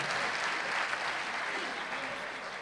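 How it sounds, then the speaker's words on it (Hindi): Loud, dense applause from the audience at a Hindi comedy stage show, sustained evenly with no voices heard over it. "हम जोरदार तालियों से उनको प्रणाम कर रहे हैं।"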